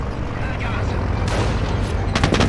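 Anti-tank gun fire in the WWII strategy game Company of Heroes, Hill 112 mission near Caen: a dense, steady rumble of battle with sharp bursts of gunfire late in the clip.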